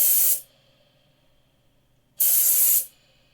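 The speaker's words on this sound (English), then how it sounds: "I have this air dust. And I want to have a spray effect" Two short blasts from a can of compressed air duster hiss sharply up close, each under a second, separated by near silence.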